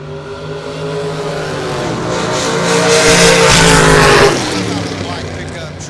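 At a drag strip during an Outlaw series event, a 450 dragster-class race car accelerates hard in a rising, swelling engine roar that peaks and then fades as it passes.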